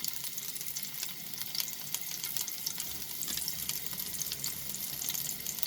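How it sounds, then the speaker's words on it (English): Garlic cloves sizzling in heated oil over a low flame, a steady close crackle and hiss with occasional sharper pops throughout. "The oil is heated, so put the flame into low and then add the garlic cloves."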